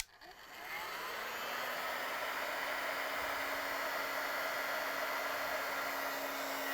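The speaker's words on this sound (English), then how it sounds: "usually I turn on the heat gun and set it for 650 degrees" A heat gun set to 650 degrees, used to warm a Frigidaire/Electrolux freezer door gasket, switches on and settles into a steady, loud blowing whoosh with a faint motor whine, close by and unbroken.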